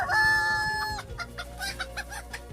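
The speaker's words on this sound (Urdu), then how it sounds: "مرغ یا مرغی بھی ایک ایسا پرندہ ہے جس کو صدیوں پہلے مفید جانتے ہوئے انسان نے گھروں میں پالنا شروع کیا۔" A domestic rooster lets out a loud, drawn-out crow close by, and after it comes a series of short, choppy hen clucks over a steady low background hum.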